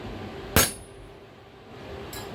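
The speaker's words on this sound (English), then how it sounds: "I use a 4-pound hammer. You want one hit for your touch mark." A 4-pound hammer delivers one solid ringing strike on a cold chisel forged from a coil spring, a sharp metallic clang that decays quickly, followed by a faint second tap near the end.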